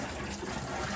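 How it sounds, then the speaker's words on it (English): Water runs steadily from a tap over a nut milk bag being rinsed, a brief, moderately quiet splashing hiss. "I'm just going to rinse it off"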